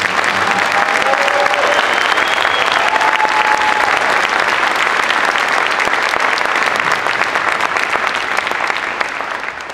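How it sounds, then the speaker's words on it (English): Loud, sustained applause from a large audience at a high school winter concert, continuous clapping filling the whole stretch and tapering slightly at the end. "So how about a hearty round of applause for the effort?"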